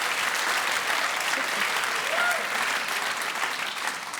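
Steady applause from a studio audience at a comedy show, a dense, even patter of clapping that carries on without a break.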